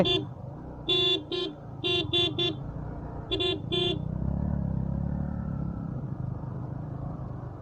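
Horns honk in short repeated bursts over a motorbike engine's rumble on a steep hill road, then the engine strains on alone with a steady roar.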